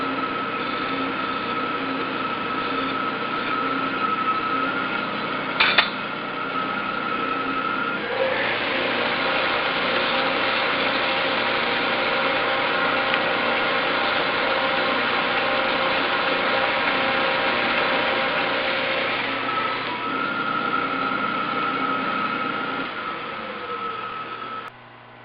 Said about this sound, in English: There with the chamfer tool. A little bit of deburr on the outside.